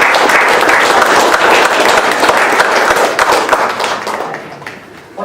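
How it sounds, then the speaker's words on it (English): Audience at a Papworth Trust candidate hustings in Cambridge claps steadily to welcome the candidates, a dense roomful of applause that holds strong and then thins out toward the end. "Give me a round of applause to welcome our candidates."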